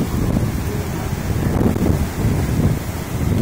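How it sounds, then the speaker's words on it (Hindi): Strong pre-monsoon cyclone in Haryana, with wind over 150 km/h and heavy rain, roaring as a loud continuous buffeting rush that batters the microphone, a deep turbulent wash surging and easing without any speech. "You can listen start of हवा विद धुआंधार बारिश."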